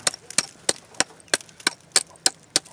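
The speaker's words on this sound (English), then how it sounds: "So chip some of this ice out" Solid frozen ice is chipped out of a bowl in cold weather, a series of sharp, cracking knocks at an uneven pace, close and crisp with no voices.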